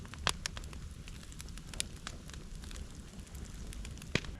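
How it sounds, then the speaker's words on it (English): An outdoor wood fire burns steadily with a low roar and a soft hiss, broken by sharp, close crackles and pops scattered irregularly throughout. "That fire's really going now."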